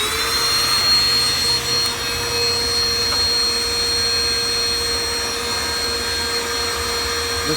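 A vacuum cleaner runs close and loud, with a steady high-pitched motor whine and a rushing airflow roar holding constant throughout, with no talking.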